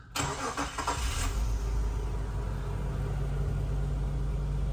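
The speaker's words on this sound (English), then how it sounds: "Let me crank it, so we're gonna start the engine." A 1998 Nissan Elgrand's engine cranks briefly with a few rapid starter pulses, then catches and settles into a steady, close idle rumble.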